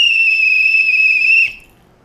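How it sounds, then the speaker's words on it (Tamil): A plastic CSK cricket fan whistle blows one sharp, steady, shrill blast lasting about a second and a half before cutting off, loud and close with no voices. "ஆனால் விசில் இப்போ நம்ம எதுக்கு யூஸ் பண்ணுறோன்னு தெரியும்"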